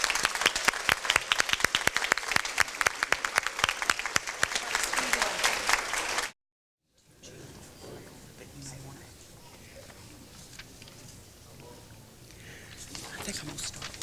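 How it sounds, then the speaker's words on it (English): A crowd claps for students at an All A's awards ceremony, giving a dense burst of loud applause that lasts about six seconds. It cuts off abruptly and is followed by quieter room noise with soft talk. "Let's have a big round of applause from these students."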